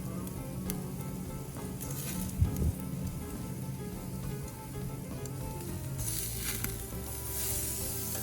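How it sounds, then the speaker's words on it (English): Filet mignon sizzling over high heat on a grill, a steady close crackle and hiss running throughout with a brief thump partway through. "slap down that filet on that high heat side first"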